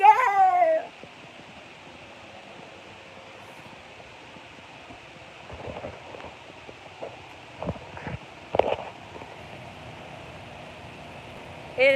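A cat meows loudly and close by at the start and again at the very end, outdoors on a hot day near a bayou. Between the calls there is only a faint background hiss and a few light knocks.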